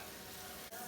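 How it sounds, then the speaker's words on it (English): A spice mixture stirred with a quarter cup of water in a hot pan for fresh chorizo paste, giving a steady close sizzle with a soft scrape near the end and no talking. "stir to combine."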